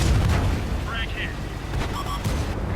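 Tank cannon firing in a World of Tanks-style armored combat game, a heavy, rumbling boom rolling through a loud, dense battle mix, with a voice speaking over it.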